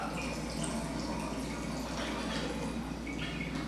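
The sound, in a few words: filtered well water poured into a bottle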